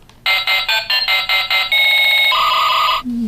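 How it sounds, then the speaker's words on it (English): A toy watch's loud electronic ringtone plays a rapid series of bright beeping bursts, then shifts into a sustained warbling melody before cutting off. "I thought it was gonna be a neat ringtone"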